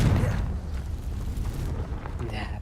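A Confringo fire spell in Hogwarts Legacy bursts with a loud boom near a castle, followed by a sustained low rumbling roar and crackling debris that stays strong for about two seconds, with no talk over it.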